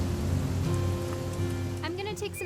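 Rain falling in the video game What Remains of Edith Finch, a steady soft patter under a low hum, with brief talk near the end.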